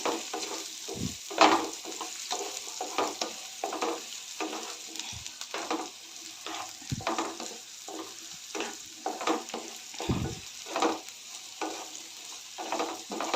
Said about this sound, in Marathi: दोडका तेलामध्ये परतून घेतल्यावर भाजी लवकर शिजते